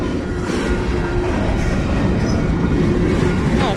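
Freight train cars rolling steadily past up close, BC Rail and CN center beam flatcars and a tanker, giving a loud continuous rumble with clatter of wheels and a faint squeal near the end.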